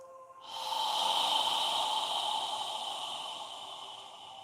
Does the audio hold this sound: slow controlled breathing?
yes